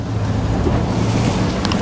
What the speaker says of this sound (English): We're about to turn against these waves right here.